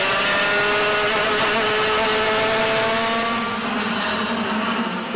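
Yamaha Light 100cc racing karts at Blossom Sprint, several engines screaming together in a steady, loud mid-pitched drone as they brake and jostle through a hairpin, with no voices over the engines.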